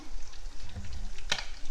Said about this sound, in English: Okay, so I finished frying them.